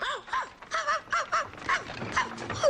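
A dog in a street setting gives a string of bright, yelping barks and whines in quick irregular bursts, close and fairly loud, with no talk over them.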